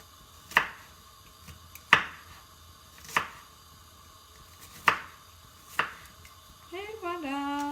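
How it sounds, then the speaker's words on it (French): A knife cuts an onion on a board with five sharp, separate chops spaced a second or so apart against quiet. A voice starts just at the end. "Et voilà, notre oignon est coupé."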